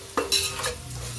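Two quick scraping stirs of a thin spoon against a pan as spices fry for masala paste over a faint sizzle, close by and brief.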